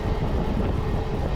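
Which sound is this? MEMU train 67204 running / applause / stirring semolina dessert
MEMU train 67204 running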